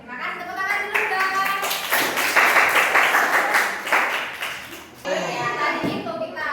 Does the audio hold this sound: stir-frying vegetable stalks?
no